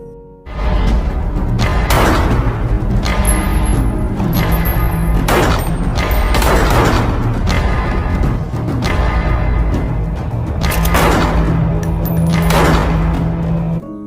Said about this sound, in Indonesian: terjadilah baku tembak antara Oleksy dengan anggota pro-Lenin di sana